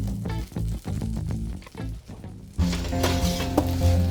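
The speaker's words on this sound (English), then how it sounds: "You can see they are sizzling, crispy" Roasted potatoes sizzle and crackle in a hot pan, with a few clinks of utensils, then the sizzling grows louder and denser.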